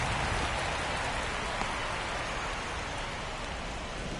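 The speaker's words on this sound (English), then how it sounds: "The rain is here, and it doesn't look like it's going away anytime soon." Steady rain pours down at a baseball stadium during a Dodgers vs Rangers game, a dense, even hiss of drops on surfaces that holds constant for the whole stretch with no talk.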